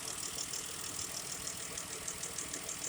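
Car engine idling steadily with one fuel injector unplugged during a misfire check, a continuous faint rumble with a soft, slightly uneven pulse and no voices.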